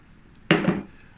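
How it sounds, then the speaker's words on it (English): A spoon knocks and scrapes once against a bowl while mixing light soy sauce into sesame paste for bang bang chicken, a brief close clatter lasting a fraction of a second in an otherwise quiet room. "use a spoon to combine both to loosen up the sesame paste"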